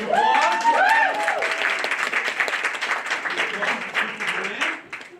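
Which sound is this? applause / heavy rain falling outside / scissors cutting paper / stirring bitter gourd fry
applause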